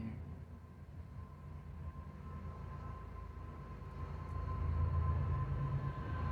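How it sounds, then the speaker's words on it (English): A train passing at a distance, a steady low rumble that swells gradually and grows louder toward the end, with a faint steady hum running throughout. "Train. Never fails. It makes an appearance."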